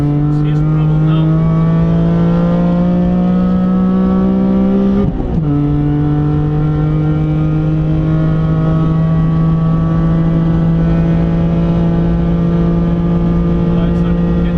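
A race car at the Nürburgring holds 5th gear on a wet, slippery stretch, its loud, steady engine drone interrupted once by a brief dip and recovery in pitch before carrying on evenly.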